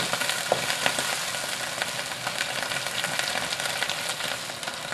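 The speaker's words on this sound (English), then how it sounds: "Give them a quick stir." Shrimp stirred in a boiling white sauce, a steady bubbling sizzle with faint scraping of the utensil running evenly throughout, no voices.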